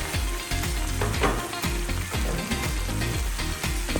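Beans and tomatoes for Ugandan kikomando simmer and sizzle steadily in a pot, a continuous close bubbling hiss with small irregular pops throughout, no voices.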